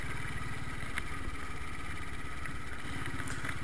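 A motorcycle rides along a bumpy farm road in India, its mid-pitched engine chugging in a fast, steady pulse with light rattling over the top, constant and close.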